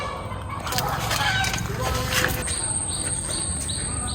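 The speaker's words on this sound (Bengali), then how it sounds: "ওই যে হাঁস নিয়ে আসছে সে" Domestic ducks call outdoors, a few honking quacks and squawks over rustling and a background bird's repeated chirps, moderately close with no clear talk.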